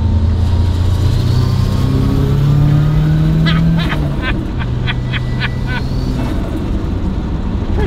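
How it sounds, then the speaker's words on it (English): Ford RS Cosworth accelerating hard with the turbo coming on, a loud sustained engine roar and rising whine heard from inside the car, with a brief burst of chirping tones partway through. "So if I open it up now coming down this straight, you'll hear the turbo kick in"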